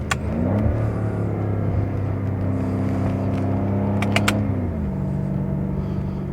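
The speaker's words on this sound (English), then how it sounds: "Some street traffic here." A car engine drones nearby at a steady pitch, with a short shift in tone partway through and a couple of faint clicks, on a mountain road and with no talk.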